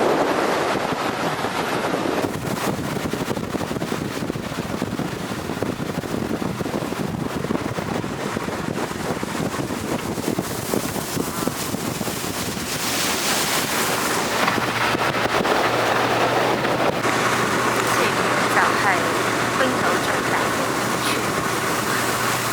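A speedboat in southeastern Iceland runs in rough, stormy weather. Its steady engine drone and rushing water mix with heavy wind buffeting the microphone throughout, and nobody speaks.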